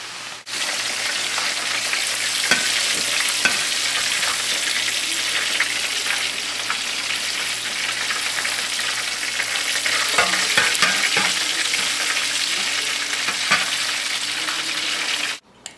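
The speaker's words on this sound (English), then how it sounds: "since we frying chicken." Chicken frying in a pan gives a loud, steady hiss and sizzle that runs nonstop for about fifteen seconds, with occasional crackles and the scrape of stirring, alone without talk.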